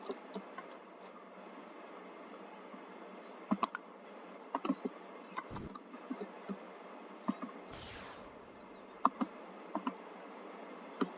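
Scattered keyboard key presses while someone plays a boat-building game on a computer: light, irregular clicks heard close over a soft steady background hum, with no talk.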